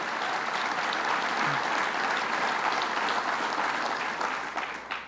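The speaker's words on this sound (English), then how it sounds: "Give him a round of applause." An audience at a community college event applauds for a steady five seconds, a dense, even wash of clapping that thins slightly at the end.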